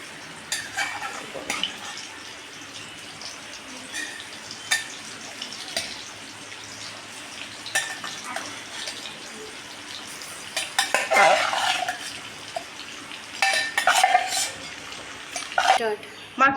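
Prawns fry in mustard oil in a kadai, making a faint, low sizzle broken by intermittent spatula scrapes and metallic clinks that grow busier toward the end.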